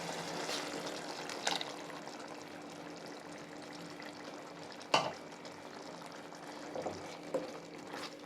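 Ground paste is poured into a dried prawn stew frying in a pan, giving a quiet, continuous sizzle with soft stirring and a couple of sharper clinks, heard close and without speech.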